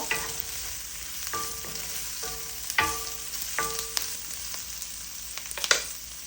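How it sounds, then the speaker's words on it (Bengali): Baked chicken breast pieces tipped into a hot pan for pasta, giving a continuous sizzle with a few sharp clinks and stirring scrapes of a utensil against the pan, close and fairly quiet, no voices. "এখন দিয়ে দেবো চিকেন বেক করে রেখেছিলাম"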